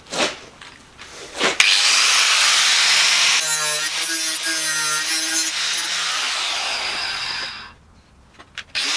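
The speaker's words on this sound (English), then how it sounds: "I'm just going to cut the rusty bit off the inside" A power tool cuts rusty metal off the inside of a car door, a loud, harsh sustained grinding that starts abruptly, shifts into a pitched whine partway through, then stops, with a few clanks before and after.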